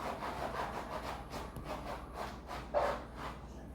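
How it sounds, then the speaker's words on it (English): A dog scratches in the background with repeated faint rasping strokes in a steady back-and-forth rhythm. The sound is quiet and somewhat distant, with no talk over it. "You'll have to excuse me if you can hear Churro in the background scratching."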